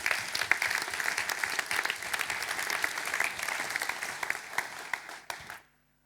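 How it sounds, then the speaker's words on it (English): Sustained applause from a large audience at the inauguration of a new factory in Poland, honoring the partners: dense, steady clapping that runs for several seconds and then stops abruptly. "please, a big round of applause to our partners"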